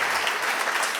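Audience applause at a winter talks evening, a dense steady patter of many hands clapping at an even level for the whole second, with no voices standing out.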